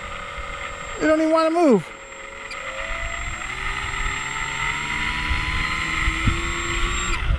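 Electric motor and propellers of a radio-controlled V-22 Osprey model aircraft running outdoors on grass, a steady droning hum with a brief louder surge early on, while a person talks over it.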